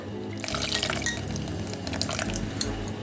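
Water being poured from a tamarind-squeezing bowl into a fish-free fish curry in a home kitchen, a steady close splashing and trickling pour that runs throughout, with no talk over it.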